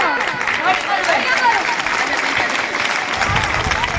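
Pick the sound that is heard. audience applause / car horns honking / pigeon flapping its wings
audience applause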